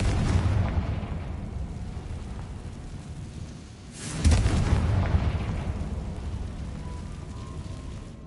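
A Confringo blasting spell detonating in a video game, a loud broadband explosive burst midway through a low, rumbling roar that swells and then lingers as sustained noise.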